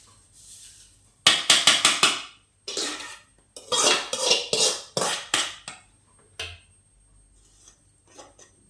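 A metal cooking pot being handled and set down in a home kitchen, sharp clanks and rattling knocks in quick bursts, close and loud, separated by brief quiet gaps.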